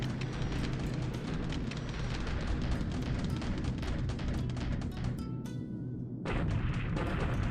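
Continuous barrage of bomb and artillery-like explosions from a bombing raid in the strategy video game War in the Pacific, dense and loud throughout with a brief dip in the rumble near the end.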